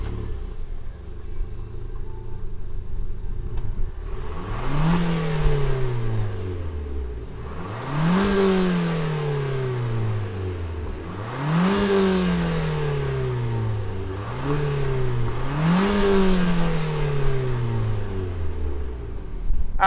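A 2018 Nissan Sentra NISMO with a single exhaust tip idles, then revs repeatedly. Four rising and falling engine sweeps are heard up close, with no talking.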